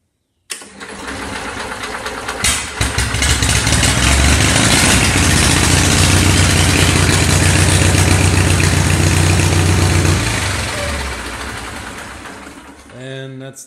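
An Onan 6.5 RV generator cranks and catches, running roughly for several seconds with a loud, knocking engine drone before sputtering and dying out, followed by brief clicks.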